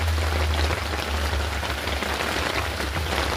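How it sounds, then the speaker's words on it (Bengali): Heavy rain pours down on a rainy day beside a pond, a dense, even hiss of drops striking surfaces, loud and close with a low rumbling undertone and no voices. "যে বৃষ্টি হচ্ছে চরম লেভেলে, পুকুরে জল এত ভরে গেছে"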